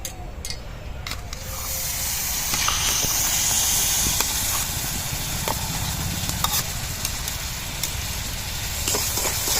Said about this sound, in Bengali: গুড়টা এবারে আমি কড়াই দিয়ে দিচ্ছি।